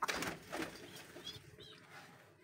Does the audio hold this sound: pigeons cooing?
yes